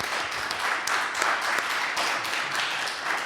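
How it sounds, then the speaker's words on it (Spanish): An audience at an academic seminar applauds two speakers after their talk, a steady moderate patter of many hands heard from a distance, fairly soft and continuous. "si queréis un aplauso a los dos por la fantástica intervención"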